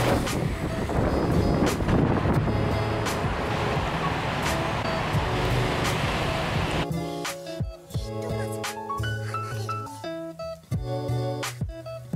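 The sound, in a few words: wind blowing while cycling in freezing rain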